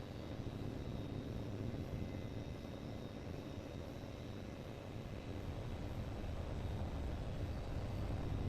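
Jet aircraft flying a patrol circuit in Tom Clancy's HAWX 2, a steady, faint engine roar with a broad rumbling hum that continues unbroken, with no voices present.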